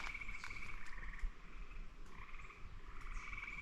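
A chorus of frogs croaks steadily in a distant bog, overlapping trills and calls forming a continuous, fairly faint outdoor din.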